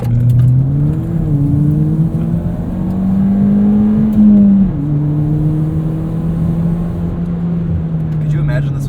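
A 2017 Ford Fiesta ST hot hatch, autocross-modified, revs hard under acceleration, its engine note climbing and dipping steadily and close-up from inside the cabin.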